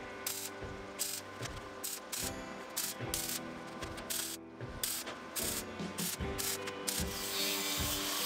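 Decorative nuts and bolts being fitted with a ratchet on a large industrial-style welded kitchen island build, a steady run of rapid clicking ratchet strokes repeating close up over several seconds, with no talking.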